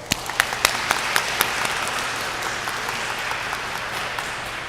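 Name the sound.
audience applause at pre-K graduation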